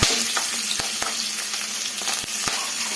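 Garlic fries in hot oil in a pan for a spicy eggplant dish, giving a loud, close, continuous sizzle with quick spatula scrapes and taps throughout and no voices.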